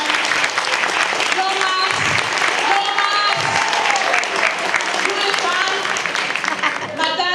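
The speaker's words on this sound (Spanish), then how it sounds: "Morón, presente también, un aplauso, gracias por haber venido, Morón." Audience applauding at an Argentine legal conference on divorce and the family home under the new Civil Code, steady dense clapping throughout while someone speaks over it.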